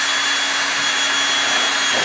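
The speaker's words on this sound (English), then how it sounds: "and then drill through" A close, steady whine of a power drill running continuously as it drills through one layer of a Maxim 3000 assembly for a rivet, high-pitched and constant with no pauses.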